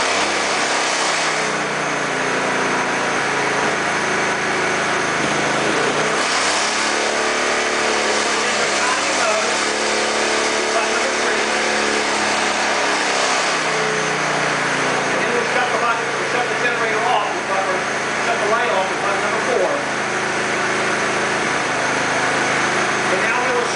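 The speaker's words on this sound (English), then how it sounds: "Shut it off with the key, and then restart it, and you'll notice that the generator will restart" A Dometic generator runs continuously with a steady mid-pitched engine drone and some fluctuation in load, set on a vibrating table, while a person talks over it throughout.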